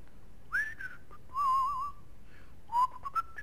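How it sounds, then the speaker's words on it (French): Person whistling short rising and wavering melodic phrases, three distinct bursts with pauses between, clear and moderately close over a low steady background hum. "c'est vrai que je ne dois pas siffler"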